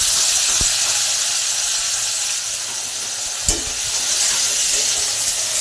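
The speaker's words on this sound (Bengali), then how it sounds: "এই পেঁয়াজগুলো একটু ভালো করে ভেজে নেব" Sliced onions with nigella seeds sizzle in hot oil left from frying rui fish for a Bengali fish curry. A steady, close hiss carries on throughout, broken by a couple of sharp clicks from stirring.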